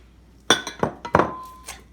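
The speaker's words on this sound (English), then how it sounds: "we're gonna cream the brown sugar with the butter" Brown sugar being creamed with butter in a bowl: a quick run of bright, close clinks and knocks of a utensil against the bowl, a few in under two seconds, with one ringing tone.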